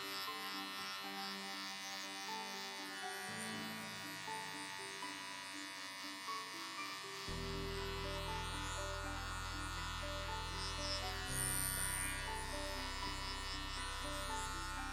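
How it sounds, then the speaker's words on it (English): An electric hair clipper buzzes steadily while cutting curly hair during a high fade, a close continuous hum whose pitch and loudness shift a few times as the blade works through the hair. "rub the clipper as much you can until you don't hear any noise cutting hair"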